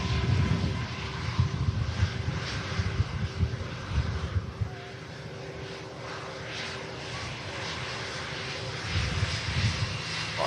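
Airliner jet engines rumble at Manchester Airport as a Ryanair jet lines up and a Singapore airliner taxis, a steady distant roar with wind buffeting the microphone and no talk.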